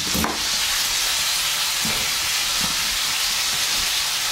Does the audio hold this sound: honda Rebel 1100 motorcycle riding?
no